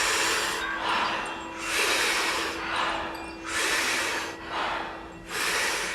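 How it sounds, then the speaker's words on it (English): Rhythmic, forceful mouth breathing in a Wim Hof style during a kundalini breathwork class, with six or so loud whooshing inhale-exhale cycles in an even, unbroken pace, close to the listener with no talking. "taking about 40 powerful breaths into the body through the mouth,"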